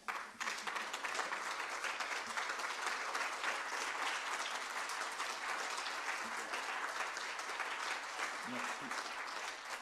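Sustained applause from a conference audience at a French-language reporters' session, a thick, even roar of many hands clapping for the whole stretch with faint voices beneath.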